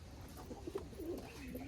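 A pair of pet pigeons coos quietly nearby, a few faint, soft rolling calls over low background hiss.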